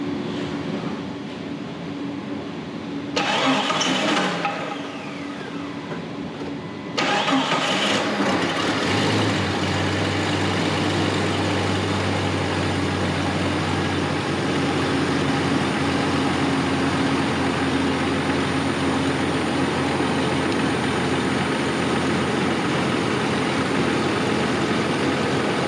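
A car engine bursts to life partway through and then runs loudly and steadily close by during a fuel pressure test, with a low, constant drone after an earlier quieter stretch.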